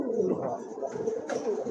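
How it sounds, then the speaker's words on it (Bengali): Satin pigeons, sold in pairs, coo in low, rolling, continuous calls close by, with a brief rustle or flutter partway through; no speech. "মাশাআল্লাহ আরেক জোড়া কবুতর"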